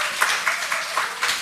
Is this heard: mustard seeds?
no